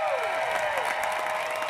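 Audience applause fills a graduation ceremony for the Savannah Arts Academy class of 2021, a steady dense wash of clapping with a faint crowd murmur, loud and continuous throughout.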